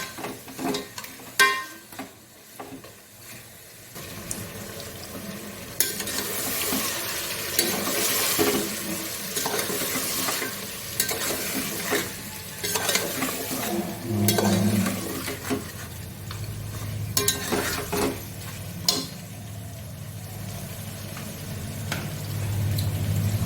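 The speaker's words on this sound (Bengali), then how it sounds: "মাংসটা ভালো করে কষিয়ে নেব।" Mutton stir-fried in a pan, heard as bursts of sizzling and a spatula scraping and clinking against metal, rising and falling over a long stretch with no voices.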